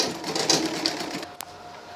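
Sewing machine stitching the lining of an Ankara handbag, a quick rapid whirring run for just over a second that then stops, leaving a faint click and quiet room noise.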